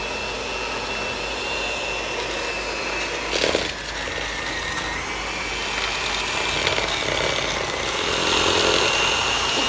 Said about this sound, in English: with an electrical mixer for about 5 minutes